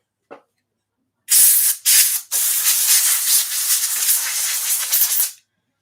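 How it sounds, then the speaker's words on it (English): Can of computer compressed air blasting dust out of a 1980s Peavey Falcon guitar setup, a short tap then loud, close hissing sprays: two brief bursts followed by a long sustained blast of about three seconds. "I like to keep this computer compressed air handy."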